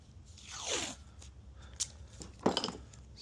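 Tape being pulled and torn to seal off the fuel line on a 2008 Jeep JK with the 3.8 engine, a close rising stretch of tape peeling off the roll, then short sharp rips and crinkles, with no one talking.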